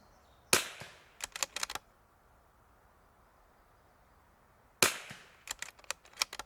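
Two rifle shots fired through a new Timney precision trigger, each a sharp loud crack followed by a short clatter of echoes, several seconds apart with quiet between.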